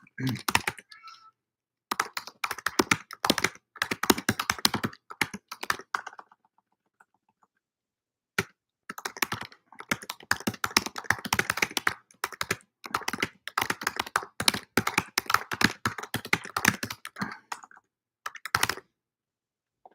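Typing on a computer keyboard during a university moral issues class, bursts of quick clicking keystrokes separated by short pauses, close and clear, with no voices.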